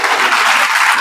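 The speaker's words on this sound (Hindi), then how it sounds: "ताली बजाओ एक बार जोरदार भाई।" Loud, steady applause from an audience at a business seminar, a dense wash of clapping that fills the short moment without any voices.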